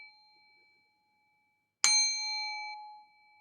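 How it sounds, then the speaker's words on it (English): A single bell strikes once, sharp and bright, then rings out with a clear sustained tone that fades over about a second; faint tones linger before it, no voices. "You're waiting for one to say yes, ring that bell."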